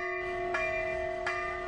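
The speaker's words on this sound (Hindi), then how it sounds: "ये वादियां गुलजार रहती हैं घड़ी घंटों की आवाज से" Temple bells in the Uttarakhand hills: a sustained metallic ringing tone with two clear strikes renewing it about three-quarters of a second apart, resonating steadily without any talk.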